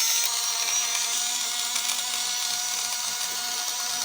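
A small USB-powered portable juicer blender whirs steadily as its motor spins, mixing fruit, a continuous high-pitched buzz held at even loudness with no talk over it.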